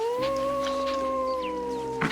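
Dingo howling in the Planet Zoo video game, a single long sustained tonal howl that holds steady and then drops off near the end, loud and clear with no talk.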